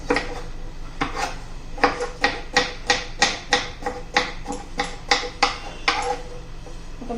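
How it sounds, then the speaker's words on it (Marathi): A knife cuts raw green mango into long thin strips, making a steady series of about a dozen crisp, close chops against a board. "सर्व कैरी अशीच कापून घेते हे पहा कैरी मी अशी लांबट लांबट पातळ अशी कापून घेतलेली आहे"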